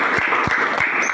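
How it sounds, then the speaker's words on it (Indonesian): Applause breaks out in a classroom for a student, a short burst of clapping that runs steady and fairly loud from start to finish with no talking over it. "beri aplaus buat teman kita"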